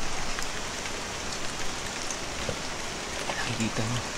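Steady rain patters down on a nearby surface, a continuous wash of drops with some louder splashes throughout.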